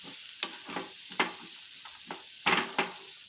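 Vegetables with beans are stirred and fried in a pan for wheat noodles: a steady soft sizzle broken by several sharp scrapes of a spoon against the pan, close and clear, with no talking.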